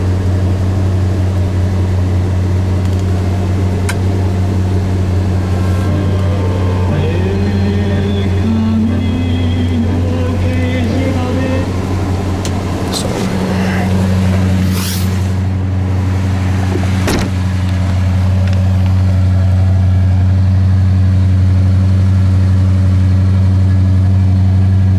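A 1969 Mercury Monterey Custom engine runs steadily at idle, a loud, even low hum with a continuous drone, alone with no talk over it throughout.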